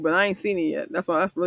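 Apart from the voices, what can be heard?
No everyday noise stands out behind the speech.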